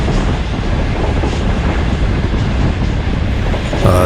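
The Karakoram Express drawing near on a Pakistani rail line, a loud continuous rumble and roar of the train that stays heavy throughout, with no voices.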